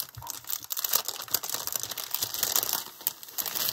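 Plastic interfacing package being opened during a craft haul unboxing, giving continuous close crinkling and tearing of wrapping with irregular crackles throughout.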